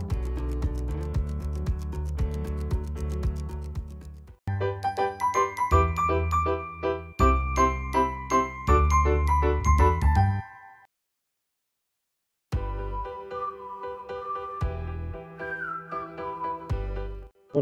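An intro theme jingle for an Italian channel plays before a webinar on heat pumps, a bright melodic tune of chiming, whistle-like notes that pauses for about two seconds and then resumes, with no talking.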